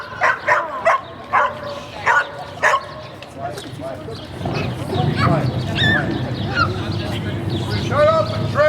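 Performing dogs at an outdoor show at The Forks in Winnipeg, a string of sharp, evenly spaced barks up close, followed by excited yipping and whining over a noisy crowd with a voice talking.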